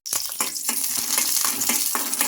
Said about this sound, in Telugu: ఇంకా ఈ మిర్చి మనకు బాగా ఫ్రై అయిపోవాలి.